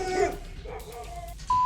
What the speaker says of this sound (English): neighborhood dogs frighten the bears.